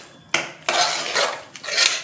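A utensil scrapes and stirs chicken coated in masala in a pan, three or four close scraping strokes of metal against the pan with brief gaps between them.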